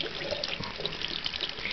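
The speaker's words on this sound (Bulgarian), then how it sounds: "И това е топлата вода." Hot water runs from a tap in a steady, close rushing stream, filling the space with an even splashing hiss throughout.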